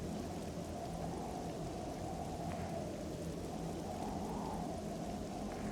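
Heavy rain pours steadily in the video game 7 Days To Die, a dense, continuous hiss with a low rumbling of thunder underneath, no voices present.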